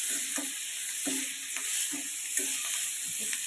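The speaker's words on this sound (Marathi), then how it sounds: "आणि चांगलं लाल होईपर्यंत ते भाजून घ्यायचं" Tomatoes roasting in a black iron wok with chilli pieces for a green-tomato chutney, giving a steady close sizzle with soft periodic scraping stirs, no voices.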